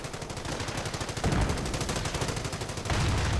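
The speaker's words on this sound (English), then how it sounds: "German mortar firing away." Rapid battlefield gunfire from a World War II strategy video game, with German mortar and rifle fire rattling continuously in dense, overlapping bursts, loud and unbroken with heavier thumps mixed in.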